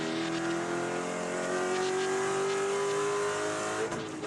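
Spec Corvette race cars on the final lap at Daytona International Speedway drone steadily with a sustained engine tone that climbs slightly in pitch, loud and continuous, then briefly shifts near the end.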